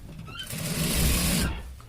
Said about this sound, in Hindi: यहाँ पर कप के ऊपर से हम एक मोड़ की सिलाई चलाएंगे दोस्तों